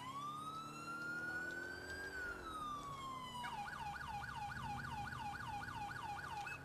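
A police car siren in the GTA IV video game, on an NYPD/LCPD Ford Crown Victoria patrol, sweeps in a long wail and then switches to a rapid, repeating yelp, steady and moderately distant over a constant engine drone.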